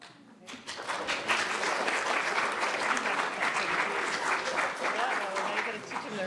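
An audience claps at a city council regular meeting, dense, loud and sustained applause that starts abruptly and holds steady to the end.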